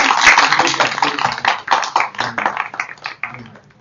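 A small studio audience at a Los Angeles talk show applauds a guest, with several seconds of close, brisk clapping that thins out and fades toward the end.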